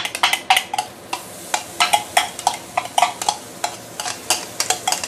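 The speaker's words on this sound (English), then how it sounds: "I'm going to start with sauteing the shallot ginger just now." Close sizzling of shallot and ginger sautéing in a pan, with rhythmic scraping strokes of a spatula, repeated quick stirs over a steady frying hiss.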